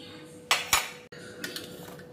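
Crushed garlic is mixed with salt and chili powder in a small metal bowl, heard as two quick sharp scrapes of a spoon followed by softer clinks and rubbing.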